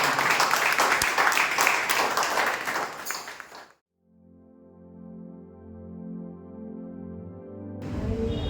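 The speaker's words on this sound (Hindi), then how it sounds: "आइए लोग जोरदार तालियां करते हैं यीशु मसीह" Loud applause from a church congregation at a Sunday service rings out for about three and a half seconds and then cuts off, giving way to sustained keyboard or organ chords, with a burst of noise returning at the very end.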